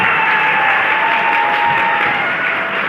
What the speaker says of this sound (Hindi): अब ताली बजाओ इसके लिए